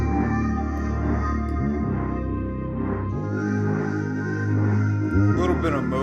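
A music sample plays: sustained, layered tonal chords with a slightly emotional feel, a low bass note swelling near the end, continuous and fairly even in level without talking.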